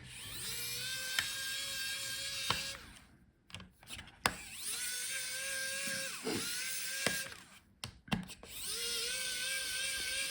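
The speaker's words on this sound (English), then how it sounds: "let's unscrew the hinges because they cover our board" A small electric screwdriver unscrews the hinge screws on an HP Omnibook 3 laptop, with several short whining bursts separated by clicks and pauses, close and fairly quiet.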